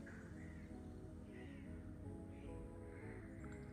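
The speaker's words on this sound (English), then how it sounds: "I'm so sorry about the crows going nuts outside, you guys" Crows cawing repeatedly outside, a series of harsh calls recurring every second or so at moderate distance over steady background hum.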